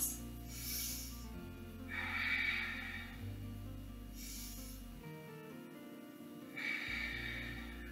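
Slow, deep breaths drawn in and out while holding a revolved triangle yoga pose, with broad airy inhales and exhales rising and fading in a calm rhythm, close and fairly quiet against faint background hum.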